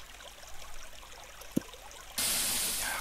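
Water in the block-building game Minetest starts to rush suddenly, a loud steady hiss of flowing water that takes over the last part after a quiet stretch with a short tap.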